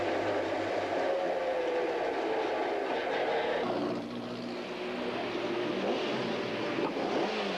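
Supertouring race cars at the 1993 Killarney SATCAR round in South Africa, engines roaring continuously at close range with revving and passing drone, briefly dipping mid-clip before swelling again; no talk.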